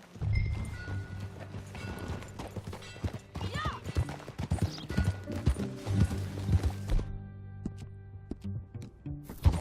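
Horse hooves clip-clopping in Red Dead Redemption 2, a steady run of hoofbeats with a brief whinny, mixed with game music and ambient sounds, moderately loud throughout.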